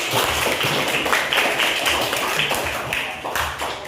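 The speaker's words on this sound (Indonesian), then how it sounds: "Baik, kita berikan aplaus kepada yang menanggapi." A classroom of students gives a burst of applause for classmates who answered a math question. The clapping is dense, loud and steady from many hands, close up and continuing without a break.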